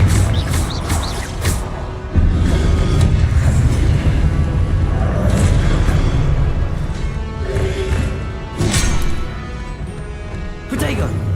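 Blasts from the Confringo explosive spell in Hogwarts Legacy boom out among dense, loud battle effects and music, with heavy rumbling impacts layered through the whole stretch.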